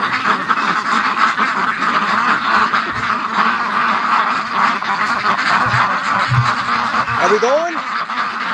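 Muscovy ducks in a pen make soft, raspy calls, with a clearer call near the end, while a person talks over them outdoors.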